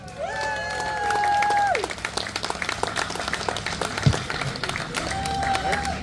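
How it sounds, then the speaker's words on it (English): An outdoor crowd at a Southern 100 road-racing interview event applauds rider Davey Todd, a burst of clapping and cheering that swells then fades, with whistles and voices heard through it. "Give a big round of applause for Davey Todd."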